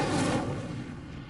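Incendio fire spell cast in Hogwarts Legacy on PS5, a loud whooshing burst of flame that rumbles at first and then fades over about a second, with no voices.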